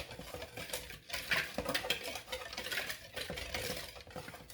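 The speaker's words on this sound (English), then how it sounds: "we're just gonna whisk this all together" A whisk scraping and clinking steadily through sugar and wet ingredients in a bowl for morning glory muffins, a faint, continuous stirring rhythm with no talking.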